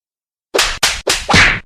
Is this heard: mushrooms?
no